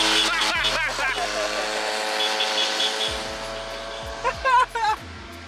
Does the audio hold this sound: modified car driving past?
yes